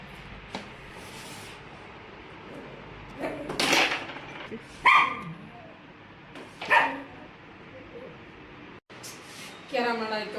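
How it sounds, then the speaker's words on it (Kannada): A dog barks several times in short, separate bursts spread across a few seconds. The barks are moderately close, with quiet gaps and faint background noise between them. "ನಾಯಿ ಬಂತು ಹತ್ರ."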